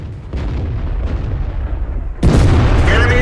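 A tank cannon shell slams into an enemy tank in World of Tanks, a loud, sudden booming impact after a stretch of low engine rumble. The blast rings on with crackling debris.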